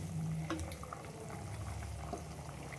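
A pot of brinjal, potato and chicken curry simmering, with faint bubbling pops and soft liquid gurgles scattered over a low background, quiet and close.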